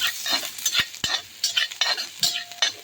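Chopped onion already browned, frying in a pan with ginger-garlic paste added, stirred with a spoon in repeated scraping strokes over a steady close sizzle.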